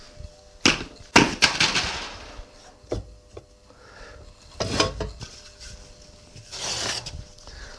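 Backup sand being sieved into a casting mould, heard close up as irregular gritty scraping, rubbing and shaking bursts with short pauses between them.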